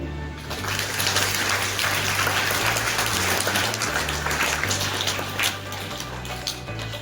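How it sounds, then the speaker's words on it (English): An audience at an English-medium school's induction ceremony applauds the newly chosen student leaders, a steady wash of many hands clapping at once over a low hum, sustained for several seconds. "Can we clap for them?"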